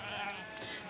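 Rare breed sheep bleating, a single wavering bleat that fills about a second, fairly faint over a noisy outdoor background.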